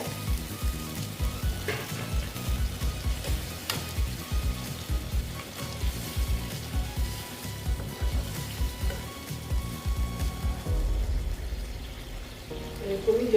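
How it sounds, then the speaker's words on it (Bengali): Water is poured into a sizzling pan of pabda fish curry, making a loud, continuous bubbling hiss that stays dense and steady throughout and rises in a final burst at the end. "আমি এখন জল অ্যাড করে দেবো খুব বেশি জল দেবো না"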